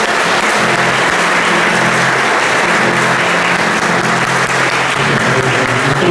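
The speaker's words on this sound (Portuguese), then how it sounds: "Vamos dar uma salva de palmas para o Senhor." Sustained applause from a congregation closing a baptism rite in a church, dense steady clapping at full volume throughout with no speech over it.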